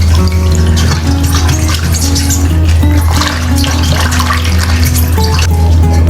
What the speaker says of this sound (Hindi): इसमें पानी डाल लूँ।